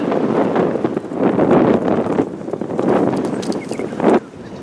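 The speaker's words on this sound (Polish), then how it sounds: "bardzo silny wiatr, zmagający się, coraz silniejszy" Very strong wind buffets a microphone outdoors during a fishing trip in Australia, loud gusty roaring that swells and drops with no voices.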